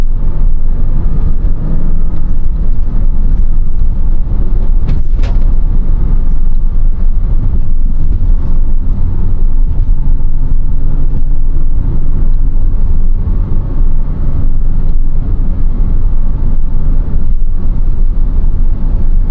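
Naturally aspirated flat-six engine of a Porsche Cayman under acceleration, a loud, steady, low droning roar heard from inside the car with constant road noise and no voices.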